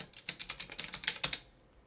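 A password typed on a computer keyboard, a quick run of a dozen or so crisp close keystrokes in an uneven rhythm that ends with a firmer final tap, with nothing else in the room.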